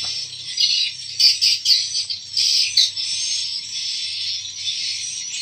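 Dense chorus of swiftlet calls fills a swiftlet nesting house, a continuous high twittering mass with sharper chirps bursting out now and then, close and loud with no talk.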